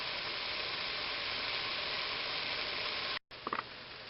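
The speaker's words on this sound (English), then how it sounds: "Browning hamburger, salt and pepper added to taste." Hamburger meat sizzles and fries steadily in a pan, a loud continuous hiss broken by a brief pause, then a few clinks and scrapes of stirring near the end.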